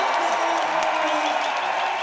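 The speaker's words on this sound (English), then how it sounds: "there's a massive cheer in the house as Lapif goes round" A big crowd cheers in a packed hall at the men's roller derby World Cup final, a steady, loud roar of voices with whoops and scattered claps running unbroken throughout.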